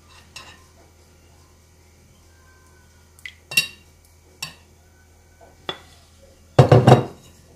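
A spoon stirs chocolate into coconut rocher paste in a bowl, making a few scattered clinks and scrapes against the bowl. A longer burst of mixing comes near the end, over a quiet background.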